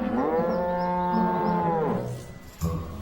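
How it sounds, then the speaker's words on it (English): A cow gives a long, loud, drawn-out moo that wavers in pitch for about two seconds, followed by a shorter second call, close and clear over a faint background. "you're a lovely cow"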